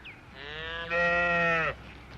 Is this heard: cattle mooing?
yes